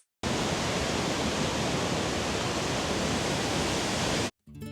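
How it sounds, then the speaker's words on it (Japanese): A powerful, high-volume waterfall roars as a dense, constant wash of rushing water, loud and unbroken for about four seconds before cutting off abruptly. "滝に打たれたりしたら多分複雑骨折をしそうなぐらいパワフルな滝なんです"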